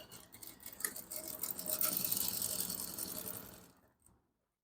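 A sewing machine runs a short continuous burst of rapid stitching on a shirt collar, quiet and close, ending abruptly.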